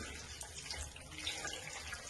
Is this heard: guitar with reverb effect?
no